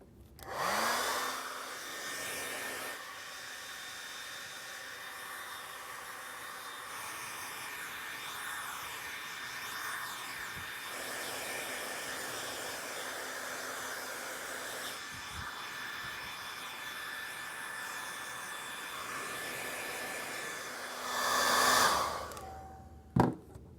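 A handheld blow dryer runs continuously while drying hair, giving a steady close whooshing hiss with faint shifts in airflow as it moves, and it clicks off near the end with no voices.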